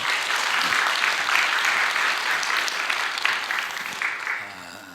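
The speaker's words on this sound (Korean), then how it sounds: "박수 한번 해주세요." A church congregation at a dawn prayer service claps together in steady, moderately loud applause that holds for several seconds before tapering off at the end.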